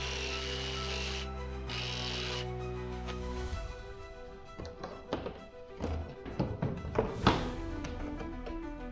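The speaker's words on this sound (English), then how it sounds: "Someday I might be able to use a jigsaw to cut a straight line, but today is not that day." A jigsaw cuts a garage wall panel during a GearTrack and GearWall install, its steady motor buzz running for about three seconds before stopping, followed by scattered thunks and taps from handling the workpiece.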